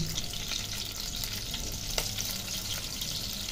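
Green chilies and chopped onions sizzle and crackle steadily in hot mustard oil, a dense continuous frying hiss with small pops and no voices.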